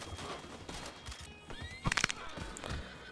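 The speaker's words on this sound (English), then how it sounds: "I love trampling them with the horse." A horse in the Red Dead Online video game whinnies in a loud, shrill burst near the middle, with clip-clop hoofbeats and other game noise around it.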